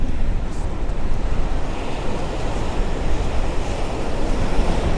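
Strong wind at an Australian beach buffets the microphone in a continuous roar, with crashing surf blended into the steady, loud rush.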